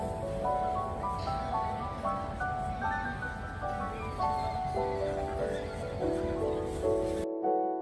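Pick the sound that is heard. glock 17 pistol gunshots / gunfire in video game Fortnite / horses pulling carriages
horses pulling carriages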